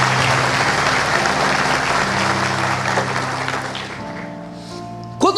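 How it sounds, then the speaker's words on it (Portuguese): A church congregation applauds steadily over sustained music with a held organ-like tone beneath; the clapping is broad and continuous, thinning slightly near the end as the music shifts. "dê uma salva de palmas a Jesus"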